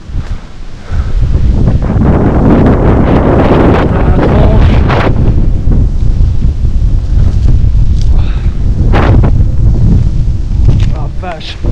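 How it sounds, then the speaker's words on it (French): Strong wind behind a barn buffets the microphone in loud, rumbling gusts that continue without a break, with some faint rustling mixed in, during rain. "Il y a du vent."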